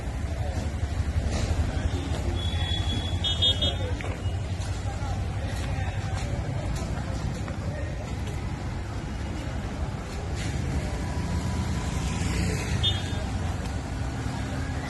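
Congested road traffic near Khadki Railway Station, slowed by road excavation on one side of the carriageway: continuous engine rumble from cars, buses and autos, with a couple of horn honks and a voice speaking over the din.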